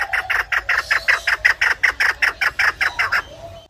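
A bird at a wildlife park clucking in a rapid, even series of about fifteen loud, close, nasal calls, then falling quiet.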